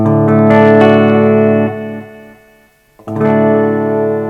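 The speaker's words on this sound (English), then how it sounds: "here we have the sort of default tone, or default reverb, if you will, and it's in standard mode" A guitar runs through the default reverb of a Boss DD-500 delay pedal in standard mode: a sustained, shimmering chord rings out and slowly decays into near silence, then a second strummed chord blooms with a lush, lingering tail.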